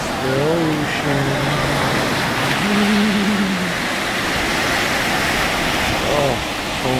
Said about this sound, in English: That's the ocean.